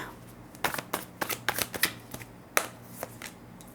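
A deck of tarot cards being shuffled by hand, a series of crisp riffling and snapping bursts in an uneven rhythm, close and quiet over a soft steady background hum.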